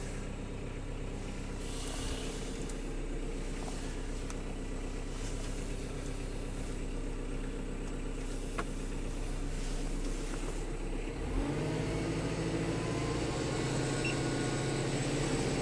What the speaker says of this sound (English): I'm just winding up the PTO there now to 540.